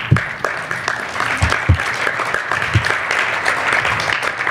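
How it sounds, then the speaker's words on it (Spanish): Audience in a church congregation clapping, a steady mass of applause filling the space with a few sharper hand claps standing out near the front, continuous throughout. "den un aplauso al Señor"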